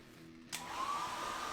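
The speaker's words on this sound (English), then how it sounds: "I'm just gonna get a hair dryer on this" A hair dryer switches on partway through and blows steadily to dry oil-painted fantasy miniatures, a loud continuous whooshing roar with a faint whine, following a quiet stretch.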